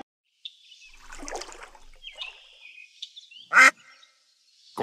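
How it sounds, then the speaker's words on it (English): A duck gives a few distinct quacks, clear and close against a quiet background, including one loud sharp quack near the end. "Q is for quack."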